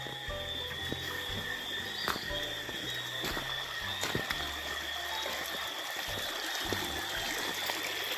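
Water flowing steadily in a stretch of river beside lettuce farmland in the dry season, a constant outdoor rush with faint insect-like chirps mixed in and no talking.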